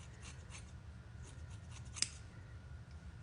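Scissors snip through hair in a few soft, close cuts during a home layered haircut with curtain bangs, with one sharper snip standing out in a quiet room.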